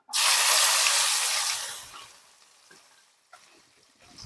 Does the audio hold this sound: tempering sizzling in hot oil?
yes